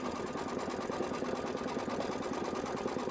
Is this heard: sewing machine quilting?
yes